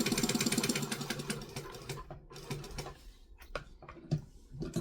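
A sewing machine stitches a seam on a kangaroo sewing project, starting with a fast rhythmic chatter that stops after about two seconds, followed by scattered clicks and handling taps as the stitching is back stitched and finished.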